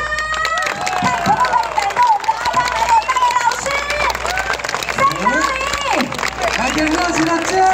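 Audience at a 2018 Dalikuei music festival concert applauds amid loud whistling, shouts and crowd babble, a dense continuous roar of cheering.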